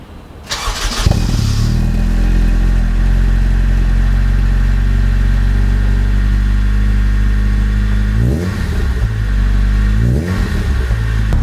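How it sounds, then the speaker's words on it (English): A JDM Honda EP3 fitted with a Toda exhaust starts with a quick crank, then settles into a loud, steady, deep idle, with a couple of brief blips of revving near the end. "you guys can finally hear the JDM EP3 all started up and running. It is a Toda exhaust there"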